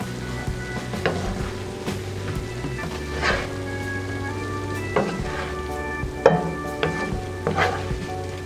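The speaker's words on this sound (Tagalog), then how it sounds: "dito po natin prituhin yung ating tortang talong" Eggplant omelette (tortang talong) fries in a pan with a soft sizzle, punctuated by occasional clattering scrapes and knocks, over a steady low humming tone.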